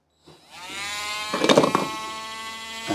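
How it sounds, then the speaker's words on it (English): A Dremel rotary tool whines up and cuts through a model railway rail, a close high-pitched buzzing grind that rises into a rougher scraping burst midway before settling, lasting a few seconds. "And just cut through the rail."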